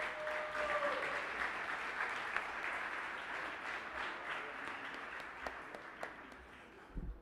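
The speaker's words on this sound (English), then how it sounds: "how about a round of applause for all of our veterans?" Applause for veterans at a Veterans Day breakfast hosted by Louisville MSD and Louisville Water, a full roomful of clapping that starts loud and slowly thins out, with a few scattered louder claps near the end.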